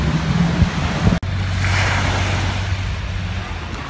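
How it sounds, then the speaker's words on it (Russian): Surf washes onto Sadet Beach on Koh Phangan island in a continuous rushing roar, mixed with wind buffeting the microphone and a brief sharp knock early on. "Очередной пляж у нас на острове Панган называется он Садет."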